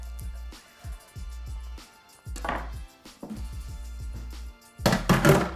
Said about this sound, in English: we're just going to slice about quarter of an inch to half an inch thick